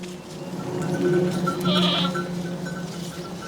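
A Sirohi goat bleats on an Indian goat farm, a loud, sustained, wavering cry close by with a few more bleats and background farm noise.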